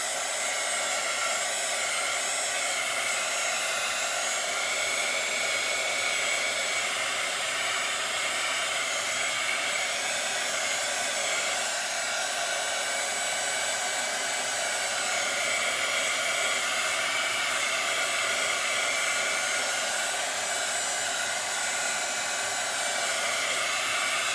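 A hair dryer blows steadily at close range drying craft packaging, a constant loud whooshing hiss that holds unchanged from start to finish with no talking.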